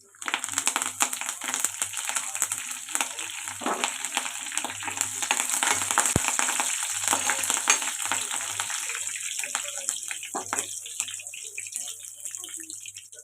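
Crushed garlic, curry leaves and dal frying in hot oil, a continuous crackling sizzle with stirring rattles that swells and fades, with a voice speaking over it.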